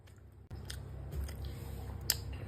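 Soft, close chewing with wet squishy bites and faint clicks, a quiet continuous mastication sound with no talking.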